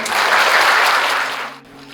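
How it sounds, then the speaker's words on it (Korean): A short burst of audience applause at a book talk, dense clapping from a crowd that tapers off after about a second and a half. "박수 한번 부탁드리겠습니다."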